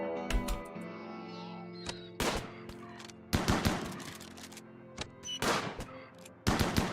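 Repeated shotgun blasts from RimWorld video game combat, arriving as loud, sharp bursts in irregular clusters with brief gaps between volleys, with no speech.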